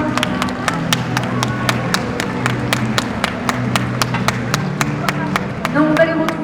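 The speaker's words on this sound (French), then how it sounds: "On peut les applaudir un peu plus fort." Audience at an Auvergne draft-horse presentation claps in a sparse, steady rhythm of distinct hand claps, with low tonal background sound running beneath and a slight swell near the end.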